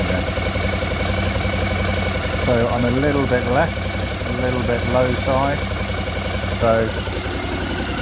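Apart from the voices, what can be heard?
1981 Honda CX500 motorcycle engine idling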